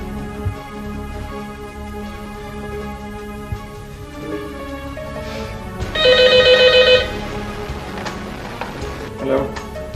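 A telephone rings in a domestic scene from an old PTV drama, a loud electronic bell burst lasting about a second after muffled background sounds and movement, with no talk over it.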